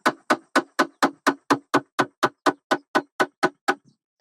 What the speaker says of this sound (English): That's a scutching board, which looks dramatic. You put your fiber through here.